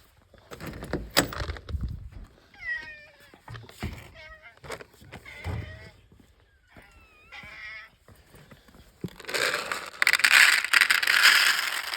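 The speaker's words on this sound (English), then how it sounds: "let's go feed the barn cats" Barn cats meow in a series of short, rising calls amid rattling and handling noises close by, with people talking at times and a louder rustling burst near the end.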